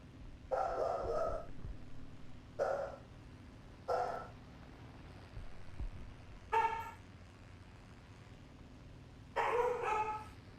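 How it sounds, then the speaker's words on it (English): Dogs barking inside a house in five short bursts, some single barks and some rapid doubled yaps, moderately loud over a steady low hum of game audio. "I'm sorry if you hear dogs barking."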